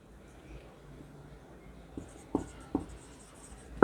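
A pen writes digits during a Class 11 permutations lesson, giving faint, continuous scratching with a few sharper taps and strokes near the end, with no talking.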